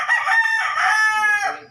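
A White Kelso rooster gives one loud, close crow that holds a strained, harmonic tone for nearly two seconds before trailing off, with no talk.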